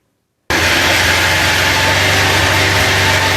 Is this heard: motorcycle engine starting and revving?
yes